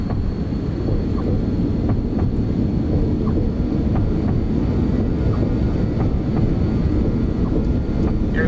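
BAe146 jet engines spool up for takeoff in the X-Plane 12 flight simulator, a steady loud broadband roar with low rumble that holds throughout, with no audible speech.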